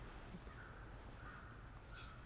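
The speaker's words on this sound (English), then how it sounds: "Just kicking back here, listening to the birds." Birds call faintly in the distance on a quiet morning at a campsite in Otter Creek Park, with a few crow-like caws over a steady low background hiss.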